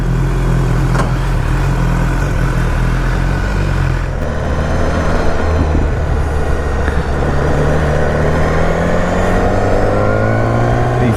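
A warmed-up 2018 BMW S1000R naked sport bike engine running close and loud, a rough throbbing idle with a blip around four seconds and wavering revs afterward.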